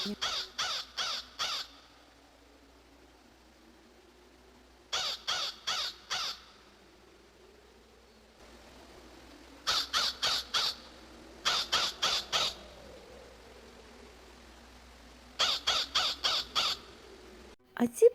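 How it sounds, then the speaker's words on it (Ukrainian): A crow with grey wings and belly caws in repeated bursts of three to four harsh calls separated by pauses, close and clear against a quiet background. "А ось найближча подружка нашої сороки ворона."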